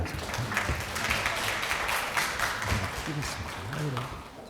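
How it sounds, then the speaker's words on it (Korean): Dense, steady applause from a crowd at an academic educational technology conference, welcoming a keynote speaker, holding loud and even throughout with a voice briefly heard under it. "큰 박수 부탁드립니다"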